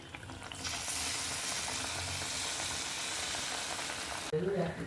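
Battered eggplant fritters (begunis) frying in hot oil, a loud, even crackling sizzle that starts abruptly and runs nearly throughout, ending with a short burst of clatter.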